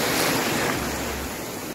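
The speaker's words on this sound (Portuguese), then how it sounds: "Ó, tá vindo uma onda." Small waves wash onto a sandy beach with clear, calm water, a steady broadband surf rush with a soft low swell, close and continuous, with light wind noise and no voices.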